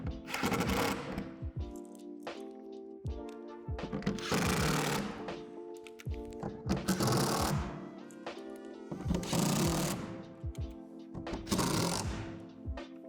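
Screws are driven into a Lifetime 10' x 8' plastic outdoor storage shed panel, the tool whirring in several loud bursts of a second or two each, separated by short pauses.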